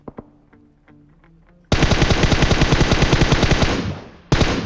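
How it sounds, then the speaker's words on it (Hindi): Rapid automatic gunfire in PUBG rattles out in a loud sustained burst after a few softer single shots, then a second burst starts abruptly after a short gap. "अब ये दो फायर सुनो आप"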